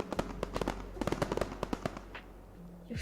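Fireworks and firecrackers go off at a distance in an irregular string of sharp pops and crackles, some clustered quickly together, then fading to quiet near the end.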